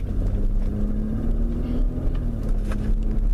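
A car with a suspected temperature sensor fault pulling away from a repair shop, heard from inside as a steady low engine hum and road rumble with a faint rising tone, continuous and without talk.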